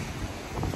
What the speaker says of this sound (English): I don't know how much the wind is playing into this because it is really windy